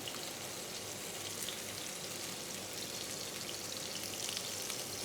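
Filet mignon sears in a hot pan, forming a crust, with a steady, dense sizzle and crackle that holds evenly at moderate loudness throughout, with no voices.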